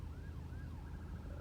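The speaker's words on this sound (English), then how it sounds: "ambulance going the other way" An ambulance siren wails in rising and falling sweeps from a distance on a road, faint beneath the steady rumble of a car interior.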